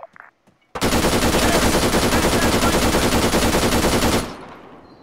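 Sustained automatic gunfire in the video game Arma 3: one long, loud, unbroken burst of rapid shots lasting about three and a half seconds, then cutting off into a fading echo.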